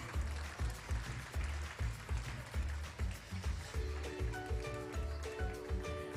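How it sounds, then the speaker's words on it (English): At a kindergarten graduation day, an audience claps in a quick, rhythmic cheer pattern, a regular pulse of fairly soft beats, with steady musical tones joining partway through. "A big cheer clap."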